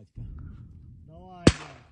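Sharp, loud launch blast of a Stugna-P anti-tank missile fired in the 2022 Ukraine war, a single sudden burst at close range after a low rumble, with a voice shouting just before.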